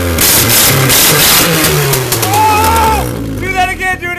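A Honda car engine running loud and close, revving up with a rising roar and fluctuating pitch, then easing back, while people shout excitedly over it.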